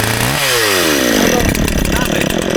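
A chainsaw runs close and loud while cleaning up after trees were pulled out with a tractor, its engine revving up from idle into a steady high whine as it cuts wood.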